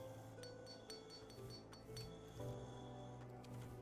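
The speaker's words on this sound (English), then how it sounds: "The sound of so many gil clinking together is strangely satisfying, is it not?" Gil coins from Final Fantasy XIV clink together inside a money pouch, giving a soft scatter of faint, bright metallic chinks at irregular moments over a low, quiet background hum.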